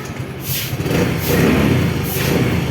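A Yamaha Mio Gear scooter with a smart motor generator starts quietly and settles into a low, steady idle with a soft rising hum, heard up close for under three seconds.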